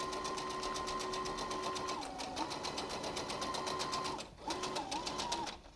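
A sewing machine stitches a three-layer cloth face mask in a steady fast whir with a close, even needle rhythm, pausing briefly near the end for a pivot before running on again.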